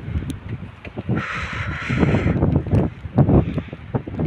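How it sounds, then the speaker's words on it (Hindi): Strong wind buffets the microphone with a constant low rumble in snowy Nathiagali, Pakistan, while a crow caws loudly for a moment in the middle. "बहुत तेज़ हवा चल रही है।"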